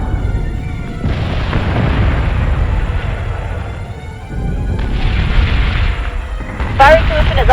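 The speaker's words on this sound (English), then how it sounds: "Adjusting shot by .06. Fire! Firing on target." Ship weapons fire in the space combat game Battlestar Galactica Deadlock, with heavy booming blasts landing around one second and near five seconds and a sharper burst near the end, all over a constant low rumble.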